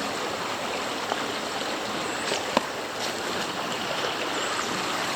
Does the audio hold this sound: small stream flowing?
yes